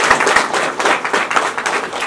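Guests at a Nepali Christian wedding clap together, a fairly close, loose patter of hand claps running steadily for a couple of seconds with no voices.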